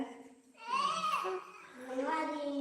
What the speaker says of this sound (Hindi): हमारा नहीं है बच्चा, हमारे देवरानी का बच्चा रो रहा है।